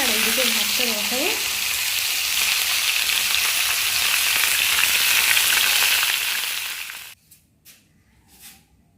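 Curry is sautéed and stirred in a pan, a loud, steady close sizzle with stirring scrapes that cuts off abruptly near the end, followed by a few faint knocks.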